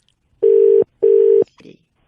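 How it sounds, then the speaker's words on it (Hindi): Two long, evenly spaced ringback tones sound loudly through a phone line, followed by a brief faint click. "घंटी बज रही है भाई साहब।"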